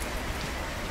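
Steady rain falls in The Slaverian Trucker truck-driving game, a dense, even hiss of drops beating on surfaces that runs without a break for the whole moment, with no voices over it.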